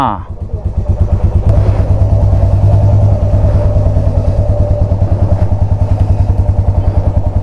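Motorcycles idling and revving on a ride to Shergaon in Arunachal Pradesh, a loud close steady engine thrum with rhythmic exhaust pulses that carries on without a break, with no one talking over it.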